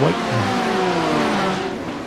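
Porsche GT3 race cars in a racing video game roar together three wide into a corner, a loud continuous engine drone with shifting pitch and a brief squeal, under commentary.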